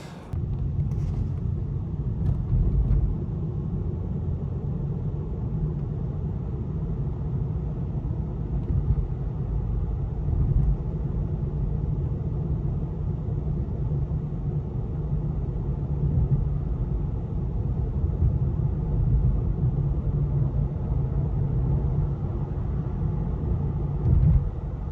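Inside a Tesla Model 3 on the road, a steady low rumble of road noise holds for the whole stretch, with a few slightly heavier thumps as it rolls over bumps, fairly quiet and without voices.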